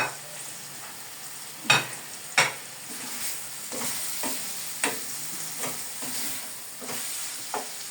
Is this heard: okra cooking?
yes